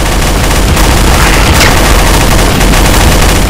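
Dense, continuous gunfire from Counter-Strike: Source zombie mod play, loud and sustained throughout with rapid overlapping shots and no talking.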